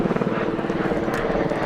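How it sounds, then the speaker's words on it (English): Los Angeles County Sheriff's Department helicopter Air 5 overhead at a shooting scene, a loud steady rotor thump and engine drone filling the whole stretch with no talk over it. "I'm talking over the helicopter here. That is Los Angeles County Sheriff's Department helicopter Air 5,"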